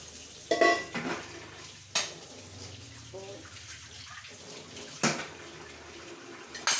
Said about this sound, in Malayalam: പാത്രങ്ങൾ കുറച്ച് തേച്ച് കഴുകി എടുക്കുവാനുണ്ട്.